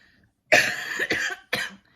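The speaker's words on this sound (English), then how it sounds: "I just have a cough." A single harsh cough bursts out, followed by a second shorter cough, close to the microphone with quiet before and after.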